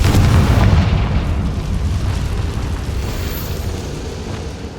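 Confringo fire spell blast in the Hogwarts Legacy video game: a loud, deep rumbling explosion that hits at once and then rolls on as a sustained low roar, with no talk over it.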